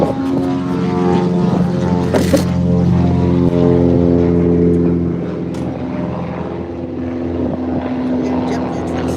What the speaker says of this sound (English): JetBlue 2632 coming in from Punta Cana on an A220-300.